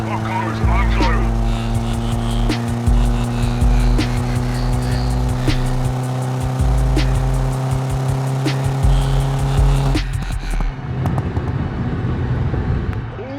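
A Cupra R engine drones with a steady harmonic hum, then sharp crackling pops burst from the exhaust as it spits flames near the end, with a voice speaking over it.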